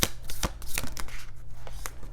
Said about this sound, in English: let's pull an oracle card for you